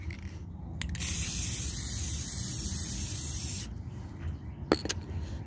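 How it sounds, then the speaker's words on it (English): Clear coat spray paint hissing from an aerosol can onto a butane can, a steady close spray of about three seconds followed by a few faint clicks and knocks. "we spray clear coat onto a can of butane"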